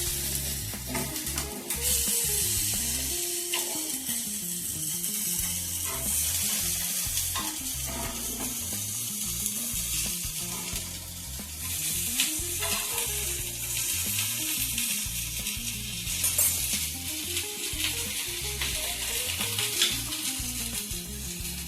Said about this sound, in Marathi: गजर परतून झालं बाकीच्या ढोबळी मिरची आणि मटार पण परतून घेते